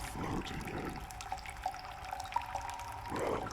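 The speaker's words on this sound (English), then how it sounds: "Do you think this is water you're floating in?" Water trickles and drips softly inside a small, enclosed well-like space, with scattered faint plinks over a low, steady watery wash and no talking.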